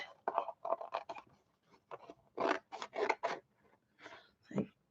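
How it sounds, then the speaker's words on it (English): Sharp scissors cut acrylic-painted paper in a series of crisp snipping and crunching cuts, quick bursts in uneven rhythm with short pauses, close and fairly quiet. "So I use some real nice sharp scissors."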